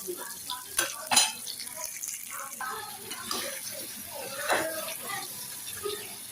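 Spices with salt, turmeric, cumin and tomato being stirred and sautéed in a pan, with a spoon scraping and clinking against the metal and a soft sizzle underneath, several sharp clanks standing out.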